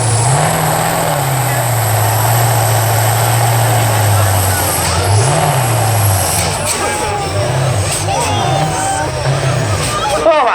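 A tractor engine drones loudly at a Saturday night tractor pull, with a steady low rumble that surges and dips in pitch as it revs. People talk over the noise throughout.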